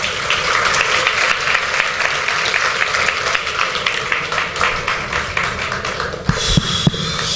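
An audience applauds steadily and densely after a religious discourse on Purandaradasa and Kanakadasa, the clapping filling the room, with a few louder isolated claps and thumps near the end.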